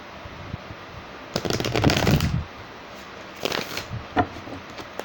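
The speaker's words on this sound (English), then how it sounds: "I'm going to go ahead and pull some advice cards." Advice cards are shuffled up close in two brisk riffling bursts, with a sharp tap between them.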